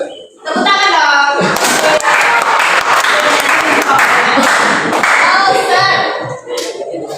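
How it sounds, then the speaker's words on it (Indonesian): An audience claps hands in a dense burst lasting several seconds, loud and close, with voices talking over it before and after. "Tepuk tangan dong."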